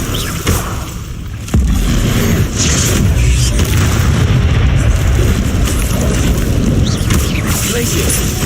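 Loud, dense blasting and booming from spell combat in Hogwarts Legacy on hard difficulty, with Confringo explosions bursting over a steady rumbling din that starts after a quiet opening second.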